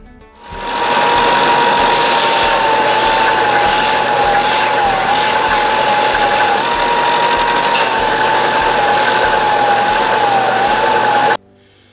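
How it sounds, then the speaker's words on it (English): A belt sander touches up the edges and sides of a wooden part, giving a loud, steady motor whine with a thin sustained tone that runs unbroken for about eleven seconds before cutting off abruptly, with no talking. "I'm going to just touch up these edges and sides on the belt sander"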